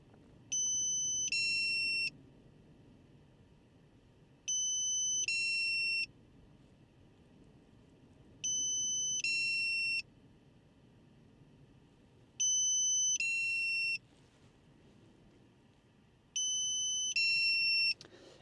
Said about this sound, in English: I wish I could mute the beeping